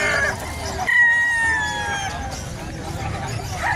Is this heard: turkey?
yes